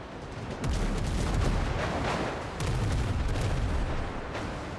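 Ship cannons fire in a naval battle in the video game Windrose, a run of rumbling booms rolling into one another in two long bursts, heavy and sustained with no voices.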